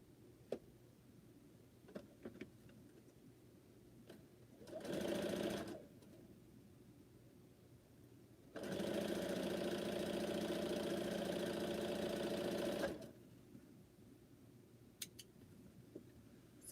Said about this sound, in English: And then I think I'm sewing pieces onto here.